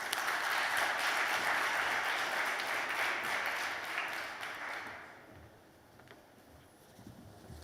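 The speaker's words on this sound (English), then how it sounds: "Big round of applause for Conrad." A fintech conference audience in Manchester applauds a speaker, steady and full for several seconds before trailing off into scattered claps and quiet room tone.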